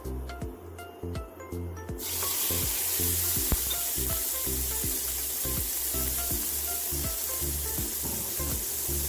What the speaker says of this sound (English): I'm going to go ahead and cook the next one, which is the seafood